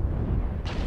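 Airstrike blasts in a mech combat video game, a continuous loud rumbling roar of explosions with a brighter burst near the end, close and dense throughout.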